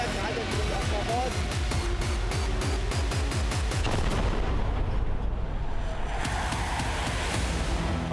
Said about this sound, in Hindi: आसमान से भीषण बमबारी।